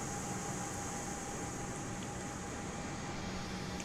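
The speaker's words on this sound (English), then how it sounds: "Engines are on." The engines of an Airbus A320 in Microsoft Flight Simulator 2020 run at a steady roar, with a constant broadband rush and a thin sustained whine. The sound is quiet and unchanging, with no talk.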